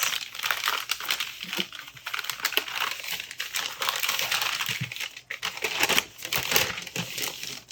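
Crinkly packaging wrapped around a pen is unwrapped, with dense rustling and crackling bursts that come in an irregular, continuous rhythm close to the listener and with no talking.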